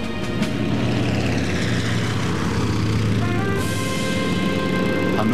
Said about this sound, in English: B-17 247 ready for takeoff.